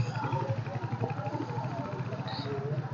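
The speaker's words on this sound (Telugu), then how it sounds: "ఇంజన్ ప్యూర్ రా సౌండ్ కూడా వినిపిస్తాను" A Royal Enfield Hunter motorcycle idles close to its silencer, a steady low thumping beat that runs through the whole stretch at moderate loudness.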